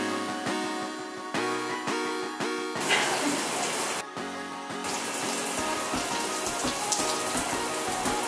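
Water from a shower sprays onto the pages of a paper journal, a steady hissing spatter that cuts out briefly and resumes, over music with an even beat.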